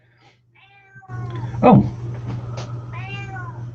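A cat outside a door meows several times, a drawn-out, rising and falling cry with a louder peak in the middle, over a low electrical hum; a person briefly speaks near the start.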